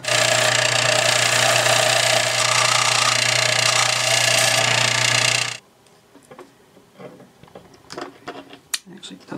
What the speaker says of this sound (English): by cutting, I mean just taking it down using my belt sander to the shop